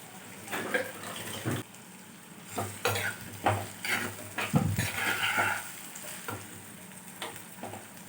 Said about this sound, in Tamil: வெங்காயம் தக்காளி ரெண்டுமே வந்து நல்லா வதக்கிக்கலாம்